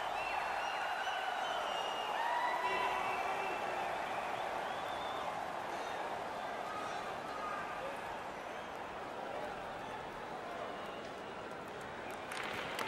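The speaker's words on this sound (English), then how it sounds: "The home crowd is pretty excited about that." Home crowd at a hockey game cheering after a goal is wiped out by review, a broad sustained roar of a large arena with a commentator talking over it.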